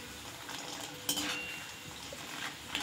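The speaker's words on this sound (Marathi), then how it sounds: "आता हे आपण एका प्लेटमध्ये काढून घेऊ।" Roasted peanuts tipped and scraped from a pan onto a plate, a faint continuous rustle and scrape with a small metallic clink partway through.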